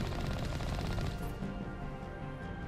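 Sustained gunfire in the video game Mass Effect, aimed at a turret, forms a dense, continuous burst that runs loud throughout and eases slightly toward the end, with no talk over it.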